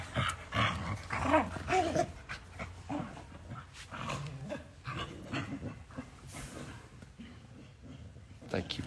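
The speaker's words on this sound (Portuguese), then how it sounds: "Os cachorros estão aqui." Several dogs pant, whimper and make excited noises close by while someone talks over them and tries to calm them, with bursts of activity loudest in the first few seconds.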